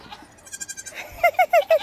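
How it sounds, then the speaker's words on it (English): Nigerian Dwarf goat bleating: a run of soft, quick bleats followed by four loud, close, evenly spaced nasal cries. "Pet that goat."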